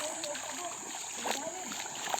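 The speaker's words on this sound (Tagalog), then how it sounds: "Tayo ay lulusong na naman dito sa ilog." Wading into a cool, clear river on a muddy rural footpath after rain, near Sitio Quitoba: steady rushing water with soft splashes and sloshing steps close by, some louder splashes, and faint background noise.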